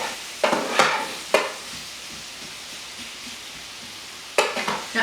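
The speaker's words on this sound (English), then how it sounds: "Now I'm going to put in my sausage, my smoked sausage, and just do that up." Smoked sausage browning in a pot for red beans and rice, with a steady low sizzle broken by a few loud scraping stirs of a utensil against the pot, close and without talking.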